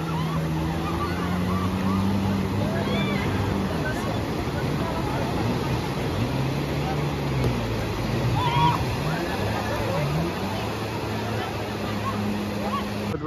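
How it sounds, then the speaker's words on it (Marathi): Sea waves wash onto the crowded morning beach at Ganpatipule, Ratnagiri, a steady broad roar of surf beneath dense crowd babble and voices close by. "लाटा बघा समुद्राच्या"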